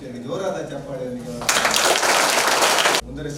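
Loud audience applause breaks out in a hall at a felicitation ceremony for Padma Shri Harekala Hajabba, a dense burst of clapping lasting about a second and a half after a voice, then cutting off sharply.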